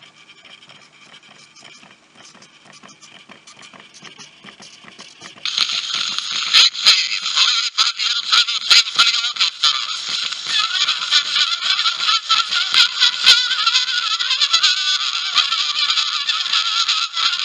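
An Edison phonograph with no horn attached plays a record, giving a loud, continuous, nasal and reedy reproduction that starts quietly and jumps louder after several seconds, with faint scratchy surface crackle throughout.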